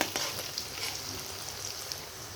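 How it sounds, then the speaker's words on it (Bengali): Onions frying in oil in a pan make a soft, even crackle that runs steadily with no voices. "পেঁয়াজটা ভাজা হয়ে গেছে"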